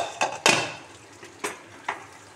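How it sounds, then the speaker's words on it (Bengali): Metal lid lifted off a pot of potatoes cooking on the stove: a few sharp clinks and scrapes, one louder clatter near the start, then two lighter taps over a quiet background. "এবার 5 মিনিট পরে এসে ঢাকনাটা খুলে দেখি"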